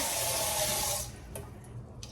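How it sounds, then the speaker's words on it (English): Water pours steadily into a rice cooker pot for about a second, a loud, rushing splash that then cuts off and leaves faint kitchen clatter behind. "I'm also gonna put water to heat up in my rice cooker"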